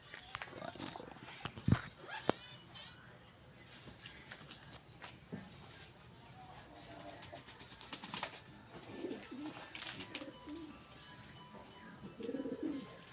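A pet pigeon coos softly in low, murmuring bursts, faint and intermittent against quiet outdoor background with occasional rustles and clicks.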